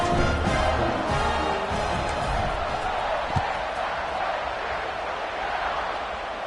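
A football stadium crowd just before kickoff makes a steady, dense roar of many voices that holds at an even loudness throughout.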